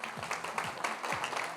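A studio audience applauds during a live cricket-themed TV show, a dense, steady wash of clapping from many hands with faint voices mixed in, lasting the whole moment.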